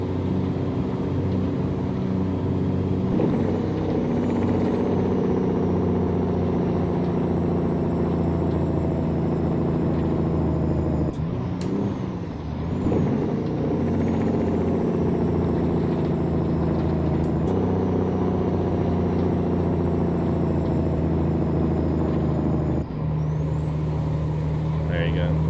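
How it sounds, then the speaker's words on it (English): A Jake engine brake on a truck in American Truck Simulator, a loud continuous diesel rumble with steady low tones that shift a few times across the stretch, with a voice briefly over it. "what's this Jake break sound like?"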